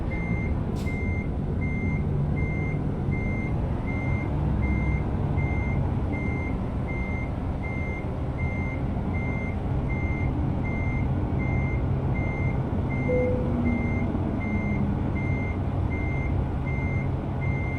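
Reversing beeps from a truck backing up in American Truck Simulator, a steady evenly spaced series of high electronic beeps over a continuous low engine rumble, with no talking.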